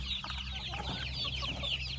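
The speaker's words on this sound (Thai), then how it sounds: "วันนี้ก็มาอัปเดตลูกไก่หน่อยนะครับ" Many baby chicks cheeping in high, rapid chirps, a busy overlapping chorus close by over a low steady hum.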